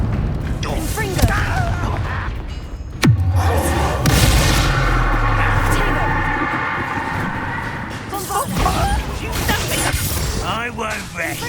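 A Confringo spell blast in the video game Hogwarts Legacy lands as one sudden loud bang with a long rumbling tail, set among ongoing combat noise and voices.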